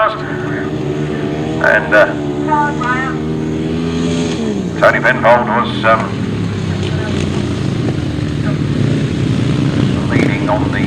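Left-hand sidecar racing outfits roar past on track, engine notes rising and dropping in pitch as the machines pass, heard under a commentator talking.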